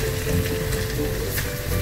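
Mutton sukka sizzling as it fries with masala in a Madurai-style pan, a steady, dense crackle and hiss that carries on without a break, close up, with nobody speaking.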